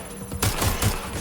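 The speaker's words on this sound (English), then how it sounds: "Taking fire." Gunfire erupts in the video game Watch Dogs Legion as a sudden loud burst of rapid shots over a steady background tone, with a game voice speaking under it.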